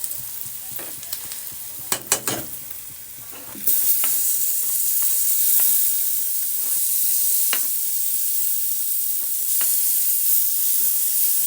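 Tomatoes frying with spices and garam masala in a pan; a few sharp clatters and stirs first, then a loud, steady sizzle surges in, with occasional scrapes of a spatula, close and unaccompanied by speech.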